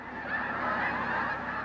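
A large flock of geese honks continuously overhead at a national wildlife refuge, a dense, steady chorus of overlapping calls with no gaps.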